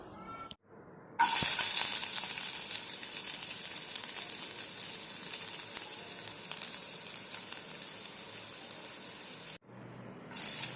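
Onions frying in hot oil with a piece of bread, a loud continuous sizzle filling nearly the whole stretch after a brief quiet start, then cutting off near the end.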